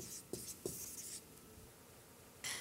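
Pen or pencil writing an answer on paper during a math lesson, with a few short scratchy strokes and a soft tap, faint and close with no voices.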